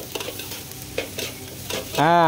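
Food stirred in a pan with scraping clinks while cooking Thai nasi minyak, then a loud hiss of sizzling oil rises sharply near the end.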